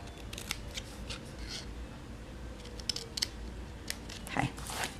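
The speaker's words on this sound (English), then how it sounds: "I'm going to get my paper snips. We're going to snip here at the end." Paper snips cut across the end of a strip of glimmer paper, giving a few quick crisp snips against a steady low background hiss.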